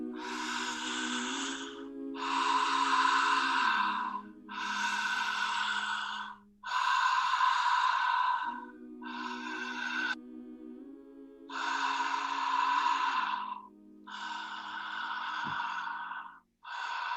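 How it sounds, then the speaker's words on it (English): Slow, steady breathing in and out through the mouth during a guided breathwork session, long airy breaths in continuous alternation with no pauses between them, close and fairly loud, with a soft drone underneath. "starting to breathe in and out of the mouth"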